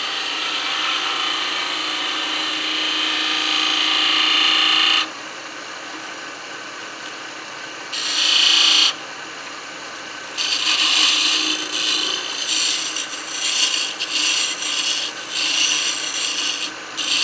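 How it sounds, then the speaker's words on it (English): A half-inch skew chisel, held point down like a scraper, rasps against spinning wood on a lathe while turning a small lighthouse ornament. Loud, steady scraping runs in bursts separated by short pauses, with no voices. "you can always do that with a regular skew, half-inch skew here, with the point down."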